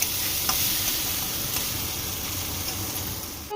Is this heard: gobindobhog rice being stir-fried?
yes